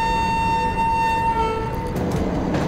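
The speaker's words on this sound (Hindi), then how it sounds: "तो अभी हम लोग यहाँ से हॉर्न बजा कर डिपार्ट करते हैं।" An oxygen express freight train in a train simulator sounds a long, steady horn tone as it departs Durgapur, over a loud constant rumble from the locomotive.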